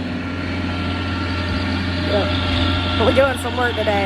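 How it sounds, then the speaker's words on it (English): A tractor runs steadily in the background on rural property being cleared for camping, a low continuous engine hum under a nearby person talking. "You can probably hear the tractor in the background."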